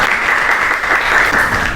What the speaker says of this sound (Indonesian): beri tepuk tangan dulu ya